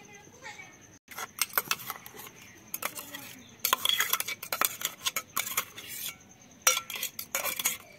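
Metal utensils clink and scrape against a bowl or strainer while raw turmeric paste is strained for homemade soap, with sharp irregular clatters close by and no talking.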